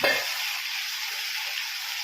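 Asafoetida water poured over onions frying in a pan, bursting into a loud, close sizzle that hisses on steadily without a break.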